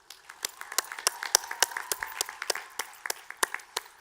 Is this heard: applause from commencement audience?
yes